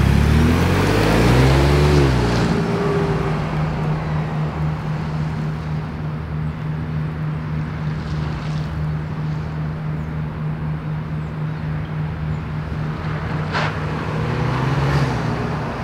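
A Ford Bronco's engine on a test drive in a parking lot, a steady loud drone with a low rumbling tone, rising briefly under throttle at the start and holding fairly even throughout.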